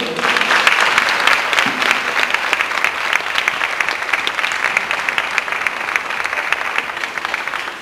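Sustained, loud audience applause for young pageant contestants, a dense wash of clapping from a large crowd that holds steady throughout.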